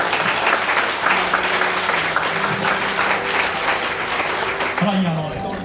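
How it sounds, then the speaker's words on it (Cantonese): Loud, sustained applause from wedding guests welcoming the newlyweds, dense clapping throughout with a voice talking faintly underneath. "再以用掌聲代替祝福， 俾我一對新人。"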